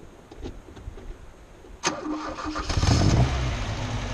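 A classic Alfa Romeo Spider running rough, needing ignition and carburettor adjustment, cranks briefly, then catches with a sharp burst and settles into a loud, close idle that builds slightly in level.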